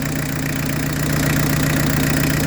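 A Peugeot 205 turbo diesel engine running at a steady idle, a close, continuous rumbling drone with an even knocking beat, no talk.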